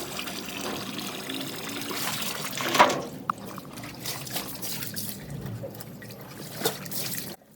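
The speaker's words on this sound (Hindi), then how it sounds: "तो यहाँ पर मैंने डाल दिया है फैब्रिक सॉफ्टनर।" Fabric softener is poured into a tub of water for soaking a blanket, giving a steady trickling splash that swells briefly midway and then settles into gentle dribbling.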